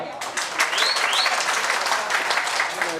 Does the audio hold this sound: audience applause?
yes